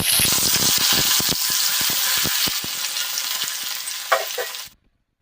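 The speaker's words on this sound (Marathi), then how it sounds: "इथे आता तेल गरम झालंय त्यामध्ये भेंडी घालून घेते मी" Okra dropped into hot oil in a pan, a loud bright sizzle with sharp stirring clicks and scrapes up close, fading as the frying settles before cutting to silence near the end.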